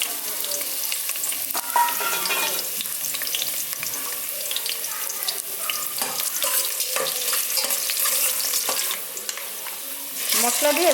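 Vegetables fry in hot oil with spices for a vegetable khichuri, producing a steady close sizzle with stirring scrapes and clatter throughout, loud and continuous without talk.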